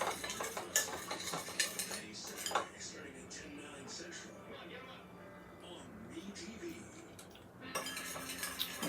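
Metal spoon clinking against a bowl or dish while tasting a homemade salad dressing for a three bean salad, with several bright clinks near the start and end around quieter handling and talk.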